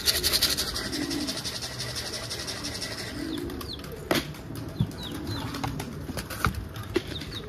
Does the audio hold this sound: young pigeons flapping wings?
yes